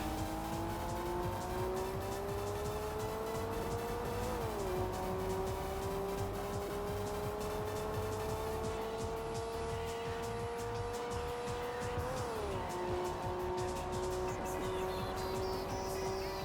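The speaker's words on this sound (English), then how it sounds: "I love my car." A racing car engine in Tokyo Xtreme Racer 3 on PS2, a Corolla, drones steadily at high revs, with pitch climbing slowly and dipping sharply at two gear shifts, loud and continuous with no talking.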